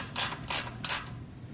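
Three quick ratcheting bursts from a wrench tightening the front wheel axle of a Phantom Vision or Shadow electric bike into its fork, close and fairly quiet, evenly spaced over a low background hum.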